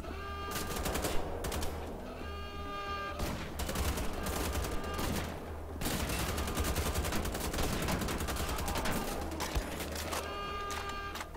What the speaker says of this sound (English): Yeah, double assault rifles.